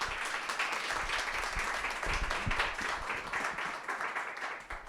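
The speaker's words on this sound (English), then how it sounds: "Can everybody please give Professor Pinsker a big round of Thank applause?" Audience applause for Professor Pinsker after a justice-system talk, dense steady clapping from a full room that holds at an even level for the whole stretch, with no voices over it.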